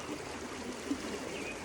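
Dark creek water flows with a soft, continuous rushing and faint trickling, steady and close with no voices.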